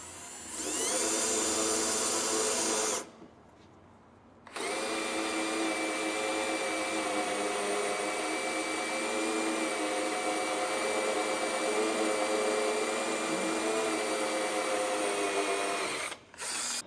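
A power drill with a step drill bit bores into the steel frame of a 2020s Chevrolet Silverado/GMC Sierra L5P heavy-duty truck, whining loudly in two long sustained runs with a short pause between.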